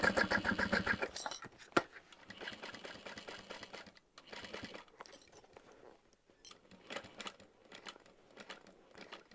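Sewing machine running steadily as it stitches a handbag seam, a loud continuous motor whir at first that drops to quieter, intermittent stitching bursts with small clicks and handling noise, no talking.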